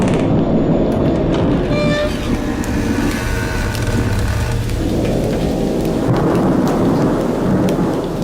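A fierce thunderstorm pours heavy, steady rain over deep rolling rumbles of thunder, loud and close throughout.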